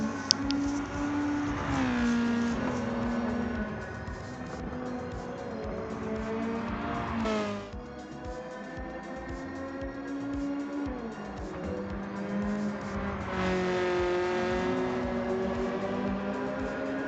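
Race cars in Gran Turismo 7, including a GR Supra with well over 200 brake horsepower, battle on track. Engine notes hold steady and rise through shifts, with a sharp change near the middle and another climb toward the end, loud and continuous.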